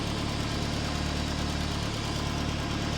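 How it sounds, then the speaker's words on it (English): A forged Ford Focus RS engine idles steadily and close up, with a fine, even ticking from the injectors over the low hum. "Your injectors tapping away as they should. Every one of them."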